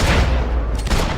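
A loud, booming gunshot blast in a video game, close and heavy, filling the whole short moment.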